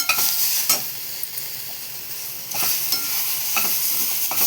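Chopped tomato being stirred into frying mutton masala, a steady close sizzle broken by several scraping stirs of a spoon against the pan, with no voices.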